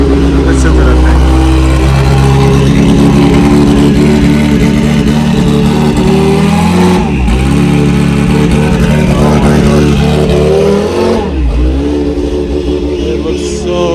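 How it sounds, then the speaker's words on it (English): Kimera Evo37 rally car engine running loud and close, a thick continuous drone with a compressor whine layered on top, dipping briefly twice as the throttle lifts before building again. "You have that kind of whine of the compressor always in the background there."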